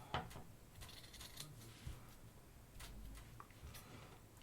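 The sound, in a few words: scissors cutting circular felt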